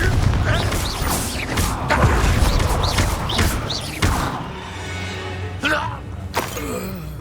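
Fiery blasting spell impacts in the Hogwarts Legacy game land amid a loud, dense mix of thuds, cracks and mechanical combat noise. Sharp hits recur throughout, with a heavy burst near the middle, and battle shouts run underneath.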